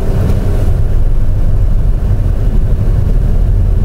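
A Honda HR-V speeding over a paving-block road, heard from inside the cabin as a steady, dense low roar of tire noise with no breaks.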